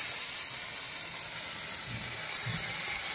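A cooking stove burns with a steady, even hiss while fish curry is prepared. Soft low thumps come through now and then, and no one speaks.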